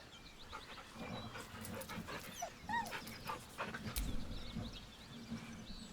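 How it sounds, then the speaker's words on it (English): A dog whimpers nervously in the fantasy role-playing video game Baldur's Gate 3, with soft panting and several short rising whines over a low, steady game ambience. "The dog whimpers nervously, as if to urge you on."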